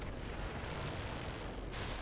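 A tank cannon shot from an E-75 in World of Tanks lands on an enemy tank, a dense booming blast of broadband noise with a further burst near the end, loud and continuous, no voices.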